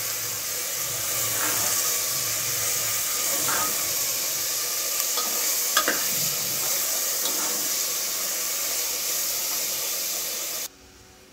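Vegetables for veg pulao fry on medium heat, a steady hissing sizzle with occasional faint scrapes of stirring, fairly even in loudness before cutting off abruptly near the end.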